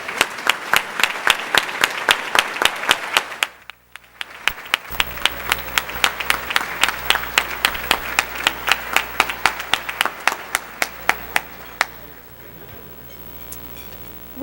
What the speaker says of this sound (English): please stand so that we can recognize and applaud your efforts